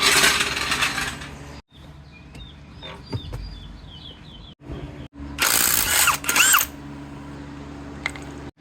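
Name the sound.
taking off a car wheel with tools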